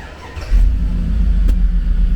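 A 2003 Hummer H2 engine starts warm: a quiet lead-in, then at about half a second a low, heavy rumble jumps up and settles into a steady, loud idle with one brief click partway through.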